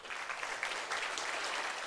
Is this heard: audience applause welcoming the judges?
yes